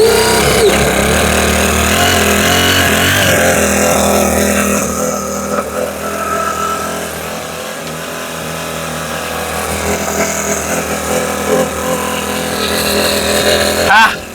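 Gasoline engine running with its throttle revved, a loud continuous rough roar that swells and eases, with excited voices over it.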